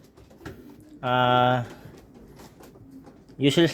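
Sick pigeons coo at close range: one loud, sustained coo, then quieter background sounds, and a second coo starting at the end.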